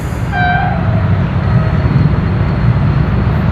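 A train rolls past on a railway line during a station announcement-style commentary about the Millat Express, a loud steady rumble of wheels with a brief horn-like tone near the start, continuous and close throughout.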